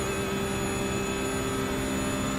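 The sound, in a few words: Porsche race car engine shifting into sixth gear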